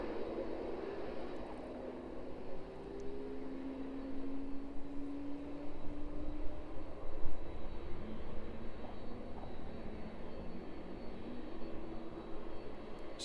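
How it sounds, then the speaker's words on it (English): A Boeing 767 airliner taxis towards the apron at East Midlands Airport in the evening. Its engines give a steady, distant low roar and whine with a faint changing tone, continuous and fairly quiet, with no talk. "Stick with the 767 though, and watch this one as it makes its way towards the apron and onto its stand."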